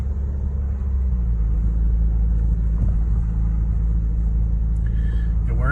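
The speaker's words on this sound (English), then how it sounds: "We're in an all-wheel drive vehicle, but a low to ground all-wheel drive Durango." A low-slung all-wheel-drive Dodge Durango drives across rutted beach sand, its engine and tires giving a steady heavy rumble from inside the vehicle, with a brief faint sound near the end.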